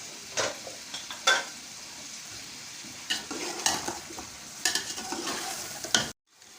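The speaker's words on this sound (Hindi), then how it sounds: "इसकी अच्छी तरह चिकन की भुनाई करेंगे" Chicken with tomatoes and green chillies fries in a pot for pulao, a steady sizzle broken by scraping stirs and the occasional clink of a spoon against metal, close by with no talk, before cutting off abruptly.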